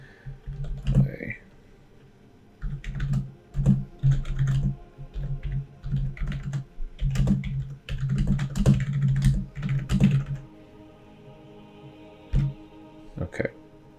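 Typing a bio on a computer keyboard, with steady close key clicks in quick bursts and short pauses, heard under a person talking.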